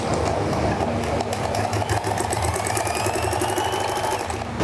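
A sewing machine stitches salwar fabric with a fast, steady mechanical chatter, close and continuous throughout.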